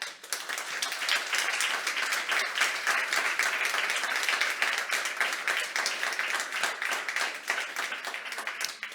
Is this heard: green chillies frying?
no